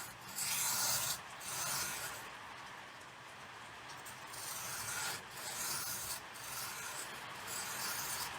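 A knife with a worn, nearly edgeless blade, one usually used for scraping and prying, is drawn across dry sandpaper under light to medium pressure, giving repeated gritty rubbing strokes with brighter rasping bursts at a steady rhythm, close up and moderately quiet.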